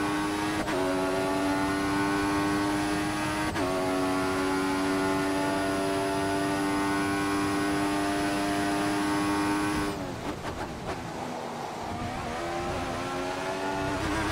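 A Formula 1 car from the F1 2014 racing game screams around the Montreal circuit, its high engine note holding steady, then cutting and shifting through gear changes near the end, loud and continuous with no talk.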